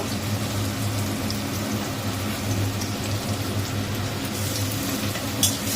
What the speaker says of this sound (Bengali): রসুনটা ফোড়ন দিয়ে দিলাম এর মধ্যেই। রসুনটা হালকা ভেজে নেব।